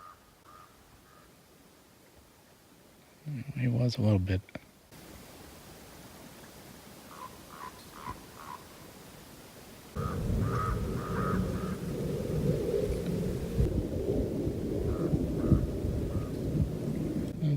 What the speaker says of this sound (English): Little in this world I love more than the sound of a raven echoing off canyon walls.